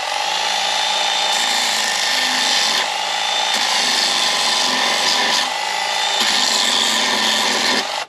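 A Craftsman V20 brushed cordless band file runs on speed one against an edge, a continuous loud motor whine with an abrasive grinding rasp, pressure shifting in a few short surges and breaks.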